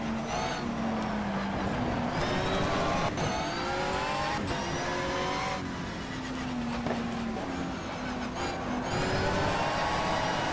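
A race car in the video game GTR 2 drives at full throttle, its engine droning loud and continuous, with pitch rising and falling through gear changes.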